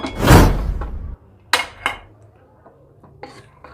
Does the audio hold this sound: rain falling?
no